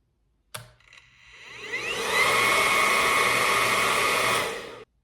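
A hair dryer clicks on, spins up over a second or so, then blows with a steady loud whoosh and high whine before cutting off.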